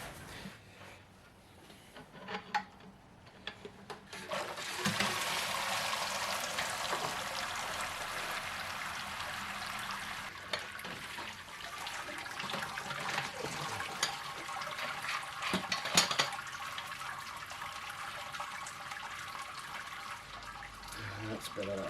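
Hot sparge water pours steadily into a mash of grain during a home beer brew day, a continuous splashing rush that starts after a few quiet seconds, with occasional clatter and a voice speaking over it.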